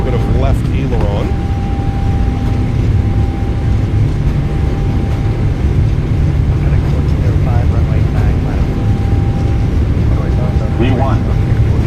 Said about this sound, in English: Takeoff power is set. We're rolling.